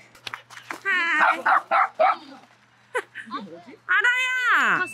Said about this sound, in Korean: 강아지야.